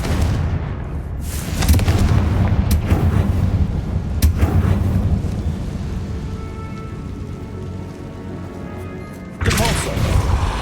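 Explosive Confringo blast spells in the game Hogwarts Legacy, a few booming bursts standing out over a steady rumbling, rain-like background.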